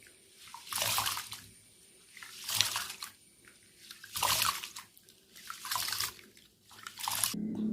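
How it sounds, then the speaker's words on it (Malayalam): Rice being rinsed in a third change of water, with repeated bursts of swishing and pouring water roughly every one and a half seconds, close and fairly quiet. "മൂന്നാമത്തെ വെള്ളമാണ് ഒഴിക്കണേ."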